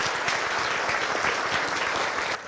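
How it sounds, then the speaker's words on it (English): A conference audience at an agency's state-of-the-agency address gives a steady, dense round of applause, loud and even throughout, tapering slightly at the very end. "Please give Joe a round of applause."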